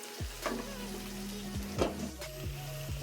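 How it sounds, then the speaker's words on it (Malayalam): Chicken curry sizzling in a pan as it is stirred, with a steady soft frying hiss and a few distinct scraping strokes from the spoon spaced through it. "എനിക്ക് ഇളക്കണമെങ്കിൽ രണ്ട് കൈകളും കൊണ്ട് ഇളക്കിയിട്ട് വരാം"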